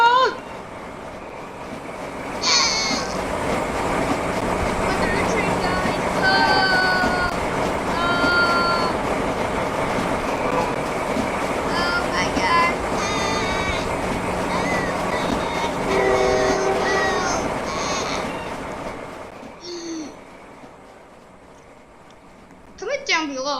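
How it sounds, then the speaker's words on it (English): A train rumbles past at close range in a long, steady roar with higher screeching and rattling tones layered over it, then fades away near the end, with shouting voices over it. "here comes the train."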